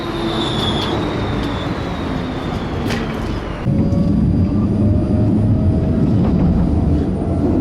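A tram rumbles into a stop with rising wheel noise and metallic squeal, growing louder midway as it pulls close; no talking.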